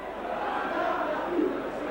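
Rugby league crowd of Saints supporters at a St Helens versus Widnes match reacting unhappily to a referee's penalty, a steady broad roar of massed voices with murmured disapproval, sustained and moderately loud throughout.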